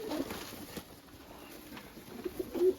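Pigeons in a coop give soft, low cooing close by, faint and murmuring, with a few brief coos that swell near the end.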